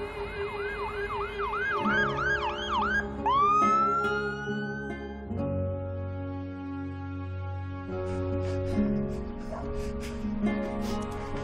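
An ambulance siren wails close by, its rising and falling tone sweeping repeatedly before shifting to a faster yelp and then cutting out, leaving a steady low hum with faint background sound.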